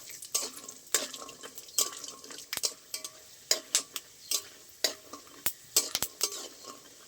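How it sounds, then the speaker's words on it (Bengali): Peanuts fry in a pan of oil with a soft sizzle while a spatula stirs them, giving regular sharp scraping knocks against the pan roughly every half second, close and alone. "আমি এখানে কিছুটা চীনা বাদাম নিয়েছি, তেলের উপরে দিয়ে ভেজে নেব।"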